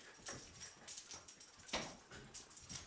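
A dog whimpers and yips faintly in short, irregular bursts during a fight with a cat, with no talking.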